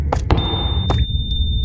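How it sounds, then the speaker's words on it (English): Bells ring in the SCP-087 horror game, clear high sustained tones sounding twice amid short thuds and bursts of noise, close and fairly loud with no talk over them. "Okay, we got a little bit of bells."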